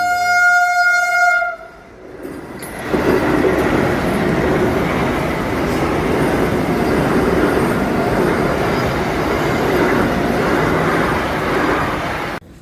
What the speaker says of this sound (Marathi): ट्रेन येते त्याच्यामुळे